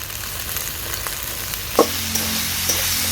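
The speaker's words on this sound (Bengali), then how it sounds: "এবার এতে আমি দিয়ে দেব কলমি শাকগুলো। কলমি শাকটা দিয়ে দিচ্ছি।" Water spinach drops into a pan of fried aubergine and potato with a sharp clatter, followed by a steady bright sizzle of frying, close and without talk.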